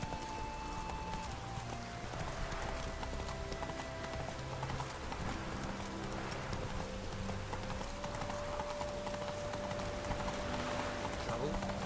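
Roach the horse gallops in The Witcher 3, rapid rhythmic hoofbeats thudding steadily throughout with a faint musical backdrop, moderately loud.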